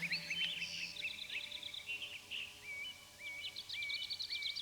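Birds sing outdoors during a guided sophrology meditation, with several bright chirps and warbling phrases, then a repeated rising whistle, moderately close over a soft, steady background.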